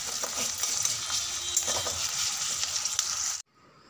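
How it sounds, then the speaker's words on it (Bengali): Garlic paste sizzles steadily in a hot pan while being stirred, with scraping strokes breaking through the continuous frying hiss before it cuts off abruptly. "রসুন বাটাটা দিয়ে বেশ কিছুক্ষণ নাড়াচাড়া করে নেব।"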